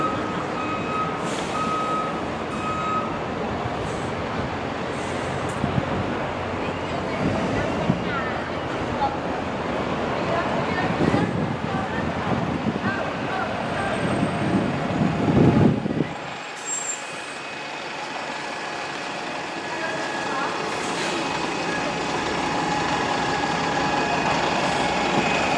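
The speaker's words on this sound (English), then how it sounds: "There goes the last V Festival bus" A V Festival bus pulls away, its engine rumbling with a burst of air-brake hiss and reversing beeps around it, then the noise drops sharply and the surroundings settle into a quieter hum.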